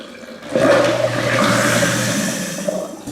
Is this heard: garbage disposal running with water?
yes